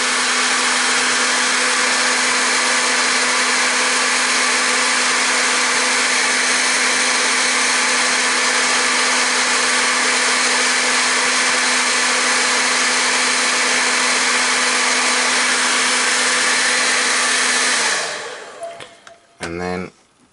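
A Nutra Heat hairdryer blows steadily and loudly, heating a part on a GEC G836 transistor radio, its even whirring hum with a tonal whine holding for about eighteen seconds before cutting off, followed by brief clattering handling noises.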